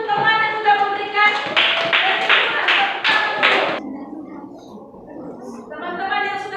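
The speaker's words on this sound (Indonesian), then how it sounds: "Tepuk tangan untuk teman yang sudah memberikan." A classroom of students claps for a classmate in a short, patterned burst of several loud, close claps. A chanted voice is heard before and after the clapping.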